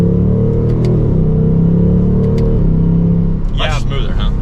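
A 2024 Ford Mustang GT Premium accelerates hard, its engine note droning steadily and loud before a brief shift into second gear near the end, with a voice speaking over it.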